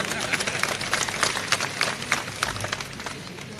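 Crowd applause at a political rally, a sustained wash of many hands clapping with irregular sharper claps standing out, moderately loud and continuous throughout.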